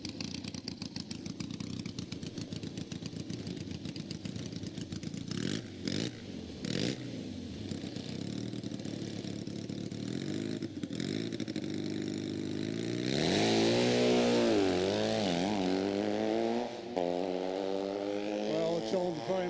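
A drag racing motorcycle launches in second gear at a 2019 nostalgia drag meet, its engine note climbing in loud rising sweeps as it pulls away, with sharp revs and a crowd-level roar behind.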